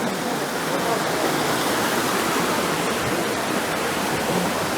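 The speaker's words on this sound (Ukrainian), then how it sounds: "Так, ми дійшли до водоспаду." Steady, broadband rush of falling water at the Huk waterfall in Yaremche, continuous and fairly loud throughout with no breaks.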